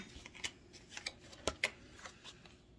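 Tarot cards handled and shuffled by hand, a quiet run of soft flicks and riffles with a few sharper snaps, close and without speech.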